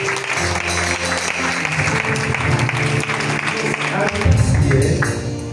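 A church congregation applauds for Jesus, steady clapping that swells over a sustained organ-like musical backing and grows louder toward the end, with voices mixed in.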